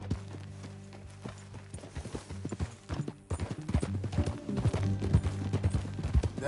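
Hoofbeats of a horse ridden in the video game Red Dead Redemption 2, a steady clip-clop rhythm close by over a low music bed, picking up pace and growing louder partway through.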